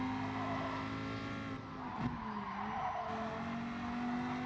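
Racing car in a circuit racing game braking hard into a corner at Dragon Trail Gardens, engine drone steady and loud with a brief tyre squeal and downshift dip near the middle, alone without talk.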